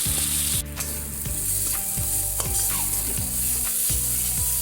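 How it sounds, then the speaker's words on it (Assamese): Mustard paste sizzles loudly in a pan while a spatula stirs it with repeated scraping strokes, close and continuous, with no talking. "মই ভালদৰে লৰাই ভাজি আছোঁ"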